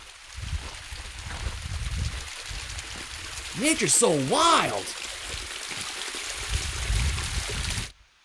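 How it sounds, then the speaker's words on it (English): Water flows through a mountain crevasse on Vancouver Island in a steady, moderately soft rushing babble, while a person speaks briefly partway through. "Another crevasse with flowing water."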